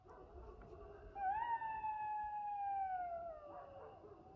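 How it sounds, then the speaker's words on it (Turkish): Jackals howling around a garden at night: one sustained, wavering howl rising and then gradually sliding lower for about two seconds, moderately distant over steady background hiss. "Çakal sesleriyle."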